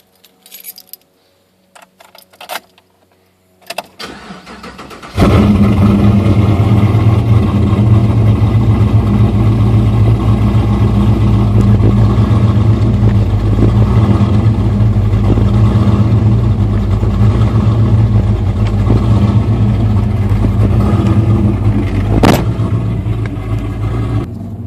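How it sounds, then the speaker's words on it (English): Keys jingle and a few clicks come first, then an LS-swapped GMC Canyon engine cranks and fires, settling into a loud, steady, deep idle that rumbles close for the rest of the stretch. "I will pause this and start the vehicle up in just a second so you can hear it run."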